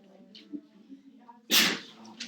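A single sharp sneeze bursts out loudly near the microphone in a classroom, following quieter murmuring and faint speech.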